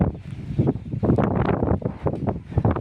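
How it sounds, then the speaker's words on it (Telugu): Strong gusty wind blowing through village trees, buffeting the microphone in rough, uneven bursts, with a rushing roar that rises and falls. "చెట్లు చూడండి, పెద్ద గాలి వేస్తుంది అనమాట మొత్తం"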